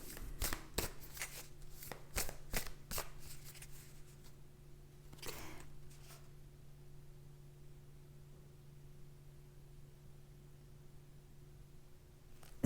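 Tarot cards are shuffled in a quick series of soft riffling flicks at close range over a quiet room hum, followed by a couple of faint card slides and then near silence.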